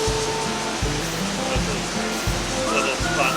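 Wild river water rushing steadily beside a shaded riverside spot on the Xiaojingping wild river, a close, broad wash of noise with soft low thumps recurring under it.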